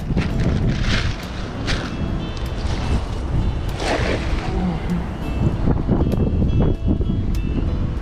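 Strong wind buffets the microphone at a fishing shore, a steady loud roar with gusts and splashing water, while a voice speaks briefly.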